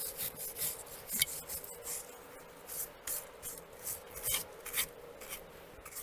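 Scrubbing dirt off the rear wheel bearing hub of a Gator utility vehicle, repeated short rasping brush strokes in an uneven rhythm over a faint steady hum, close up and without talking.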